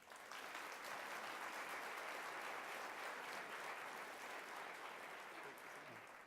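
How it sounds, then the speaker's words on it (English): An audience at a worksite wellness conference applauds continuously for several seconds, a dense, even wash of clapping from a large indoor crowd. "Please give these charities a round of applause."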